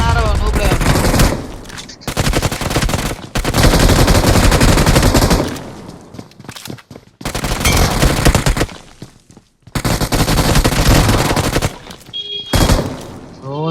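Rapid bursts of automatic gunfire from the mobile battle royale game PUBG Mobile, played in a squad ranked match, come in several loud sustained volleys separated by brief pauses.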